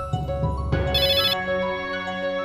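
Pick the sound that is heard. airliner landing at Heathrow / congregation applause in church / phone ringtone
phone ringtone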